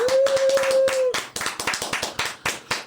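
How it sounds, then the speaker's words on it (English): A small group clapping for a guest in a casual study-hall setting, a few distinct claps that thin into separate irregular hand claps, close and fairly loud, with a brief tone at the start. "I think we can give Mason a little study hall round of applause"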